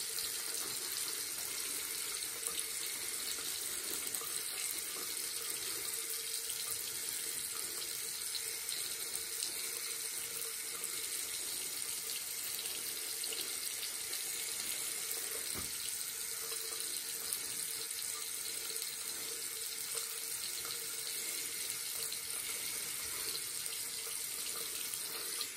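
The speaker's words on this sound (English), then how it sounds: "Sorry for leaving the water on." A tap left running at a bathroom sink during a shave pours in a steady, unbroken stream, a broad close hiss that continues throughout with no one speaking.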